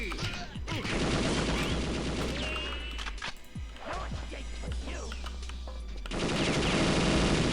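Sustained enemy machine-gun fire from the video game Perfect Dark, dense rattling bursts running almost continuously with crashes and impacts mixed in, loud and close, with a brief lull near the middle.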